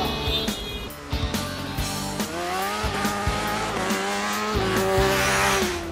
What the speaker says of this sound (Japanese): さあこれが75メートル加速、